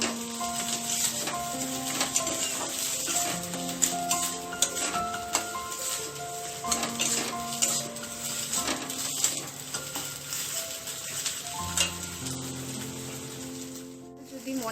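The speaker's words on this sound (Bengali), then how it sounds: "এবারে গ্যাসের ফ্লেমটাকে হাই করে ফ্রাই হতে দিতে থাকবো কিছুক্ষণ।" Prawns and bottle gourd leaves frying over a high gas flame, with a steady sizzle running under intermittent talk and clattering stirring sounds throughout.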